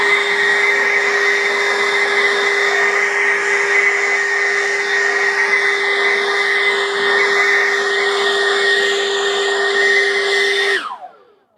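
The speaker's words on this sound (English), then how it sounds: "this is a Gen 3 800 CFM Greenworks blower. So when you're done, guys, you just take a blower and you just blow it." A Greenworks 80V Gen 3 800 CFM cordless brushless leaf blower runs at a steady, loud whine with a constant tonal hum for about eleven seconds, then cuts off and spins down quickly.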